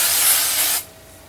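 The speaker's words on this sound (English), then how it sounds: "I'm just going to hold it pretty far away and just spray it" A steady, loud hairspray hiss, held far from curly bangs, sprays for under a second, then cuts off abruptly, leaving faint room tone.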